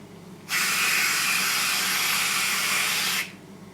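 Whipped cream hisses out of a can onto a caramel frappe in one steady, close spray lasting almost three seconds, starting and stopping abruptly, with no voices.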